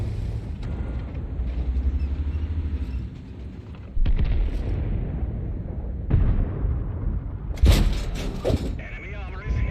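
Tank cannon fire in the World of Tanks video game, several heavy booms with sudden onsets, including a sharp loud blast near the end, over continuous engine-like rumble and occasional game noises.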